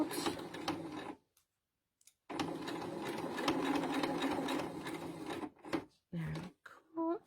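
Sewing machine stitching fabric for a tissue holder, a steady close mechanical whir running in two long stretches with a brief pause between, ending with short stops and clicks and a little soft speech.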